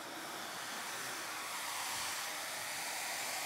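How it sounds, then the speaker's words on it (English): A hair dryer runs with a steady, loud, even rushing whir throughout, with no talking. "I have a hair dryer."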